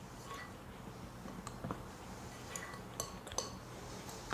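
Faint clinks and taps of a utensil against a bowl while flour and baking soda are stirred together, light irregular knocks spread over a quiet background.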